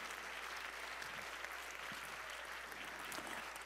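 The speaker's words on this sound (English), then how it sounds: "Let's give them another round of applause" Faint, steady applause from an award show audience at the Hollywood Theater, even clapping that sounds distant and continues without a break over a low background hum.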